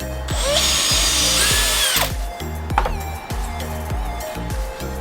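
A power drill pre-drilling a screw hole into the end of a decking timber board for a planter box, its motor whining loudly and steadily, briefly easing off, then driving on again close by, with no talking.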